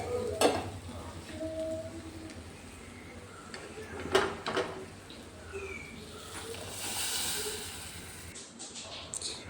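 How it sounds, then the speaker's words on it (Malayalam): Mustard seeds, chilli powder, coriander powder and curry leaves frying in hot oil for dal in a home kitchen, a low steady sizzle with a few sharp spatters and utensil clinks, close by. "അതിലേക്ക് നമുക്ക് എണ്ണ ഒഴിച്ച് ചൂടായതിന് ശേഷം കടുകും മുളക് പൊടിയും മല്ലിപ്പൊടിയും കറിവേപ്പിലയും കൂടി ഇട്ട് നന്നായിട്ട് മൂപ്പിച്ചെടുത്തിട്ട് പരിപ്പിലേക്ക് ഒഴിച്ച് കൊടുക്കാം"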